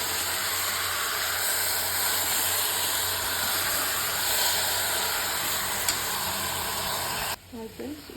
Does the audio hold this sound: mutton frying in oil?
yes